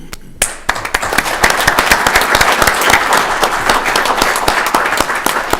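Audience at a town council meeting breaks into applause after a brief quiet moment, dense overlapping claps rising quickly and holding loud and steady, close to the microphone with individual sharp hand claps standing out.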